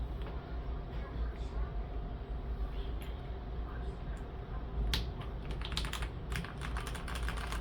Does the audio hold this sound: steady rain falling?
no